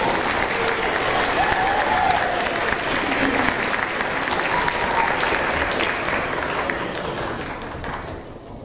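Applause from an audience at a sixth-grade school awards ceremony, students being honored as musicians; steady, dense clapping from a crowd fills the whole stretch, fairly loud and continuous before thinning slightly at the very end.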